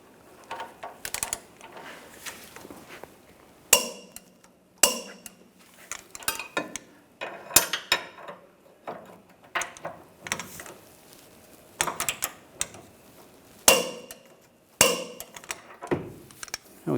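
Ratcheting clicks and clanks of a torque wrench tightening rear upper control arm bolts to 130 foot-pounds on a 2011-2018 Ram 1500 pickup, in irregular bursts of mechanical clatter.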